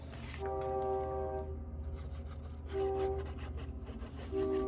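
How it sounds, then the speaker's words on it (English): A train rumbles past with a loud, sustained horn sounding in long blasts over the heavy rolling clatter of the cars. "I'm sorry you guys could hear the train"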